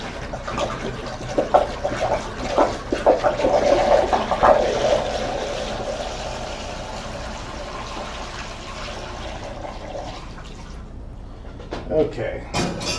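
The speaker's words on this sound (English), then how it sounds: "So go ahead and fill this up to line 1, which is a gallon of water." Cold tap water fills a Mr. Beer home-brew fermenter up to the one-gallon line, a splashing, gurgling pour that is loudest early on, then settles into a softer, steady trickle before ending with a few knocks.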